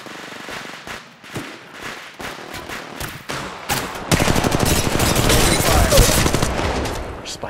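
Gunfire in Apex Legends Mobile: scattered single shots and short bursts at first, then a loud, dense run of rapid automatic fire that keeps going to the end, close and in the foreground.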